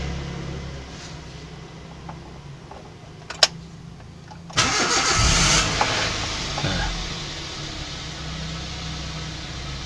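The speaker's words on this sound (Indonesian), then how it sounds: "Nah, itu saya starter mobil" A Toyota Etios Valco's engine is started: after a quiet stretch with a sharp click, the starter engages in a sudden loud burst that settles into a steady running hum.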